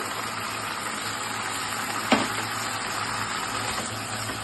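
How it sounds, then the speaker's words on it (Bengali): Spiced paste sautéing in a hot pan for a Bengali seem chochori (flat bean dish), a steady close sizzle and crackle with one brief sharp spike partway through, no talk. "পেস্টটা দেওয়ার পরে একটু কষাবো।"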